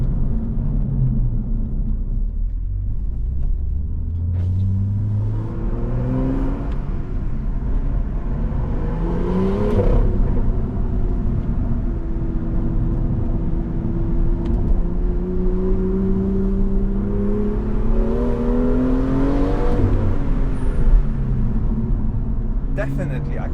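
A car drives along a road during a brake test, its engine droning steadily with rising and falling pitch as it accelerates and eases off, under road rumble and continuous talk.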